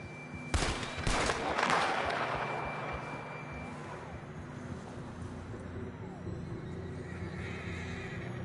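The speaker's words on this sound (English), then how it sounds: "John was riding that horse when we left Blackwater." A horse in the video game Red Dead Redemption 2 gives a loud whinny after a couple of sharp thuds, then the scene settles into a low ambient rumble with faint distant sounds.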